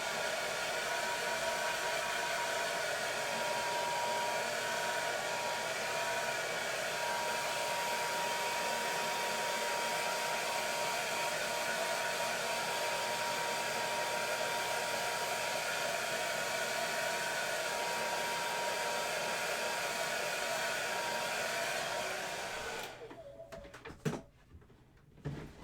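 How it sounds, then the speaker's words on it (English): A hair dryer dries acrylic paint on a canvas with a long, steady, loud blowing roar that cuts off near the end, followed by a few faint handling knocks. "I've got my hair dryer plugged in. So all I'm doing is just drying"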